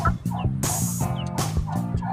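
Roosters in a transport box being readied for delivery to Bolinao call out in loud, close, repeated bursts, several birds overlapping with short pauses between calls and no talk.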